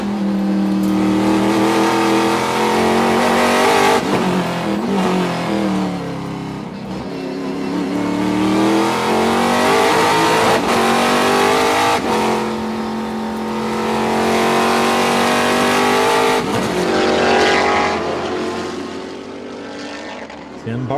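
A Trans Am Series race car engine at a Sonoma race roars loud and continuous, its revs climbing and dropping through gear changes as the car drives past, with faint commentary underneath.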